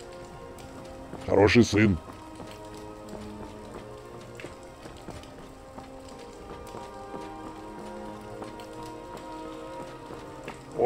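Steady rainfall in the game Skyrim, a soft continuous patter beneath a brief spoken line in Russian near the start, with faint hoofbeat-like knocks in the background.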